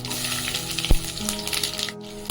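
Fenugreek seeds and curry leaves fry in hot oil with a steady, close crackling sizzle, punctuated by one sharp pop partway through.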